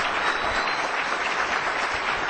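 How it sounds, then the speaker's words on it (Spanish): Audience applause fills the room at a motivational leadership event, a steady dense patter of many hands clapping at moderate loudness from start to finish with no break. "el aplauso mayor para todos los líderes"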